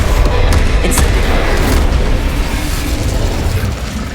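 Incendio fire spell cast during a duel in the Hogwarts Legacy video game, a loud whooshing burst of flame with a rumbling boom that holds steady and fades slightly, with no voices.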